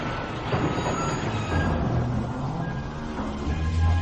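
A train in the Van Helsing: The London Assignment video game rumbles and rattles loudly and steadily, with a dense, unbroken roar of rolling carriages and no voices.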